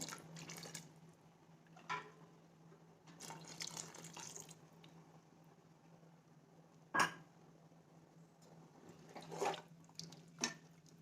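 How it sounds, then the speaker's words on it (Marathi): Hot water being poured into a cooking pot in a home kitchen, heard as faint, intermittent splashes and drips over a quiet steady background hum. "त्यानंतर आपल्याला गरम करायला ठेवलेलं पाणी टाकायचं आहे"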